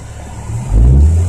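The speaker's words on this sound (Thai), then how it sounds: "เหยียบคันเร่ง" A manual-transmission car engine idles, then swells into a loud, close, low rev as the accelerator is pressed by a first-time learner.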